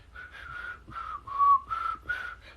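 Someone whistles a short tune of several melodic, fairly steady notes with brief gaps between phrases, with no talking.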